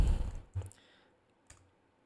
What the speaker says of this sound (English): After clicking enter